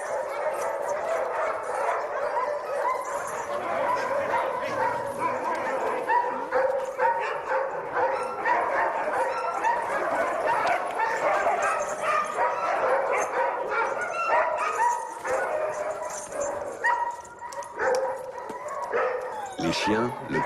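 A pack of sled dogs gathered at Québec barks, yips and whimpers continuously and fairly close, a dense overlapping chorus of many animals throughout.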